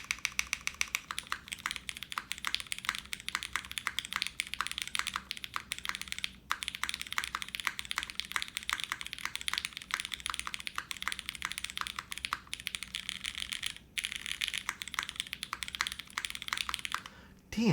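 Fast, steady typing clacks from a polycarbonate Kohaku mechanical keyboard, close and crisp, with brief pauses and a heavier key press near the end.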